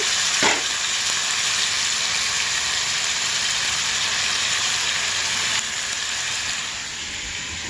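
Ingredients for an Andhra drumstick and boiled egg curry fry in a pan, a loud, steady close sizzle with a short stir or addition near the start, easing slightly toward the end.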